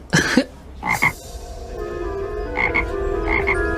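Small toad croaking close by, a few loud throaty calls spaced irregularly, followed by softer repeated croaks over a faint background hum.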